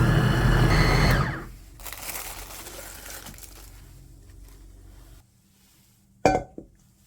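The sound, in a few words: blender grinding kimchi ingredients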